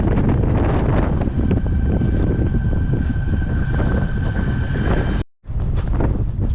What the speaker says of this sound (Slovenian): Ful piha, valovi v bok prihajajo, piha v bok